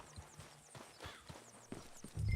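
Horse hooves in Red Dead Redemption 2, soft close clip-clop steps at an even walking pace, about eight light hoof falls with a low thump at the end.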